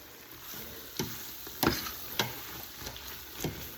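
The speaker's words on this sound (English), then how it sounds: "I'm going to stir this for a few minutes" A roux for sausage, chicken and shrimp gumbo is stirred in a pot, with a few soft scraping strokes at an irregular pace over a faint steady sizzle, close and quiet.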